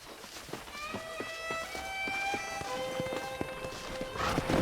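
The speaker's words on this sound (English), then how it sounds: "Let's see if we can't wrangle some horses." Horses moving in the Western video game Red Dead Redemption, with steady, fairly close hoof clip-clops repeating under a sustained musical score that runs throughout.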